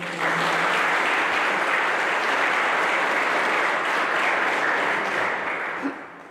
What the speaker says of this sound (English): Another round of applause for our parents.